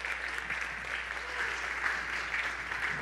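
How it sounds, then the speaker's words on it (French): A church congregation gives a steady round of applause for the morning worship team, dense clapping sustained evenly and fairly near with no voices over it. "Est-ce qu'on peut donner d'applaudissements pour l'équipe de louange ce matin"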